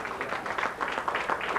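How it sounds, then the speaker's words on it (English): Crowd applause at a pre-demonstration rally in Norfolk, Virginia, a brief burst of steady clapping from many hands, moderately close and continuous throughout. "Give Brother New York Oil a strong round of applause"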